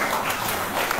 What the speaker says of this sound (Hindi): ताली बजा भैया।